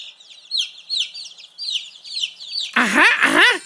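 Chicks cheep in quick, high chirps, a steady series of small peeping calls that swells into a louder, denser burst of cheeping near the end.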